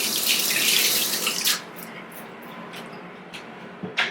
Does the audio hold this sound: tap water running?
yes